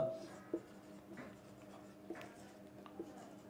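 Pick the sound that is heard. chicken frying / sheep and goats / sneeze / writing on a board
writing on a board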